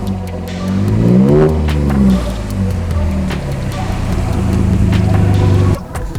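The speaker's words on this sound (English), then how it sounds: "So the exhaust has got a nice sound to it." A supercharged Chevy Colorado ZR2 pickup's exhaust roars as the engine revs up through rising pitch, drops, then holds a strong drone before cutting off near the end; loud and close.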